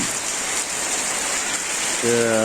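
Heavy rain from a low-pressure storm pours down steadily, a dense close hiss of drops on surfaces that runs the whole time, with a brief low tonal hum entering near the end.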